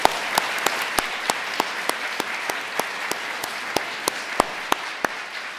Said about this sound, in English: Let's have a round of applause for the music and for my grandmother and for my mom so far.